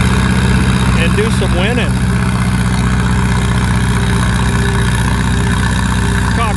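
Antique Cockshutt 30 tractor pulling at an antique tractor pull, a loud, steady low engine drone running the whole time beneath an announcer's commentary.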